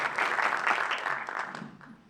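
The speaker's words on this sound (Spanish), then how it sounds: "Un aplauso, por favor." An audience applauds at a talk on LGBTIAQ+ casting, a dense wash of clapping for about two seconds that fades out at the end.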